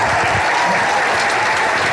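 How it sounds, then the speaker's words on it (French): A hall audience at a comedy show claps loudly and continuously, a dense wash of applause with no voices on top, steady from start to finish. "toutes les femmes vont t'applaudir"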